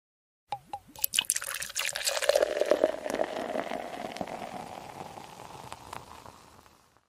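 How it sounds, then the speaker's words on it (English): Pouring a drink into a glass: a few clinks and drips at first, then a steady liquid stream that rises in pitch as the glass fills and fades out after several seconds. "I'm just going to pour myself a drink."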